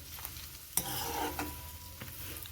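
Bitter gourd pieces fry in a pan for a cashew-karela curry, the skin crisping. A continuous soft sizzle runs throughout, broken by a few sharp clinks and scrapes from stirring. No one speaks.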